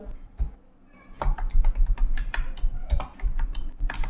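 Fingers clatter on a computer keyboard, typing into a browser search box in quick, uneven bursts of close, crisp key clicks after a brief pause.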